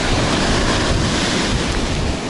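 Loud, continuous roar of Black Sea waves at Adler mixed with strong cool wind buffeting the microphone, steady throughout with no voices.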